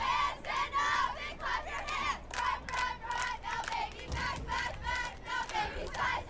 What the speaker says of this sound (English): That is the Falcon cheerleaders getting the fans on their feet.